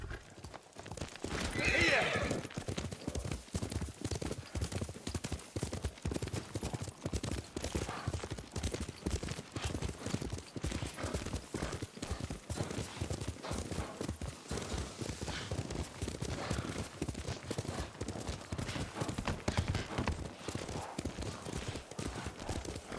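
Horse ridden in Ghost of Tsushima: steady rhythmic galloping hoofbeats throughout, with a whinny near the start, moderately loud and continuous, while people talk over it.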